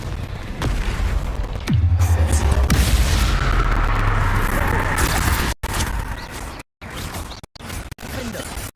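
Confringo fire spell in Hogwarts Legacy, a loud booming blast that rumbles and fades over several seconds, followed by choppy bursts of game effects.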